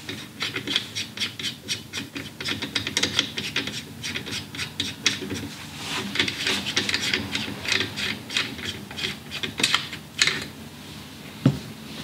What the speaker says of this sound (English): we remove the current muzzle device using a proper support technique